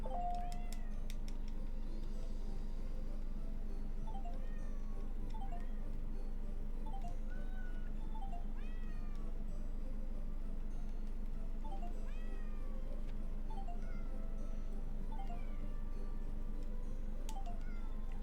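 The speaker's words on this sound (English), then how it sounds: "It's a cat." Repeated short cat meows from a video game, spread across the stretch at a steady moderate loudness over a constant low background hum, with occasional faint ticking.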